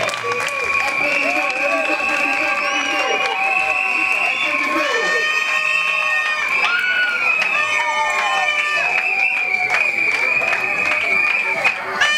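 A crowd at a Kinshasa school applauds loudly and continuously, mixed with shouting children and high, sustained voices calling out over the clapping.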